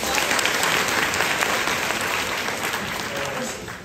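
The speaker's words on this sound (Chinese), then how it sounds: "谢谢各位的掌声" Sustained audience applause fills a xiangsheng crosstalk comedy show at Deyunshe's Xinjiekou evening performance, a dense, steady clapping from a large crowd that tapers slightly toward the end.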